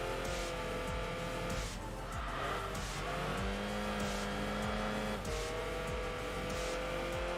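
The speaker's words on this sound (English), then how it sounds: "You can hear a little bit of the racing brakes as well. That slight kind of jingling, that slight squealing sound." A Type-R car in Enthusia Professional Racing drones with a steady engine tone and shifts in pitch as it corners. A slight, thin squeal from its racing brakes rises over the engine at moments.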